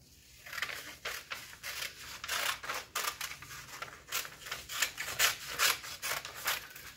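Scissors cut through fabric pieces for a child's overalls-style bodysuit sewing pattern, giving a steady run of close, rhythmic snipping and rasping strokes with no one speaking.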